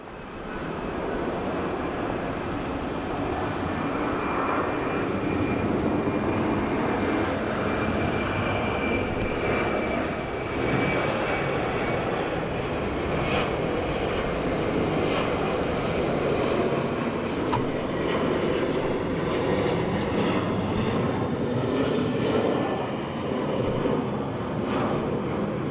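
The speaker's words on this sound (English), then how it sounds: "There's something departing. Oh, it's a Qantas A330." A Qantas Airbus A330 jet departs Sydney Airport with a steady, loud, broadband engine roar that holds at a constant level throughout, heard outdoors from a distance.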